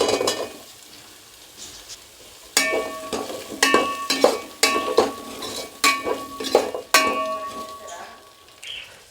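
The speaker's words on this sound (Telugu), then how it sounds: "కట్ చేసుకున్న వెజిటేబుల్స్ వేసేసుకుందాం" Chopped vegetables for a vegetable biryani frying in a pan with ginger-garlic paste, with repeated sharp scrapes and stirring clatters of a utensil over a steady sizzle, fairly close and moderately loud.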